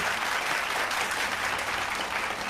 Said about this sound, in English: I gotta clap that up again.